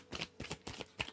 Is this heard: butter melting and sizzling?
no